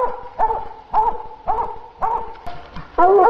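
Hunting dogs bark at an animal treed in its den, sounding loud, close bays repeated at a steady rhythm of about two per second, with one dog's voice overlapping at the end.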